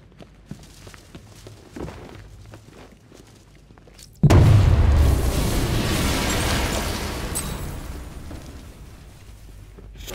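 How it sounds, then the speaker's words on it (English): A detonated charge in the Batman: Arkham Knight video game sets off a sudden loud, close boom after quiet footsteps, followed by a long rumbling roar that slowly fades with no talking. "I shouldn't detonate until I'm further away."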